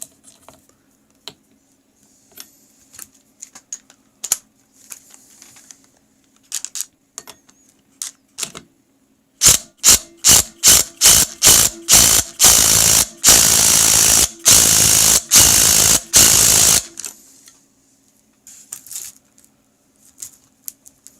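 A hand ratchet tightens the 22 mm flywheel nut on a Polaris Indy snowmobile, first with scattered clicks and then with loud, rapid bursts of ratcheting clicks close by, after which it falls quiet again.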